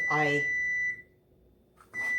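A kitchen timer for eggs gives a steady electronic tone under a voice, cuts out briefly, then sounds again, close and clear beside a mini griddle where pancakes are cooking.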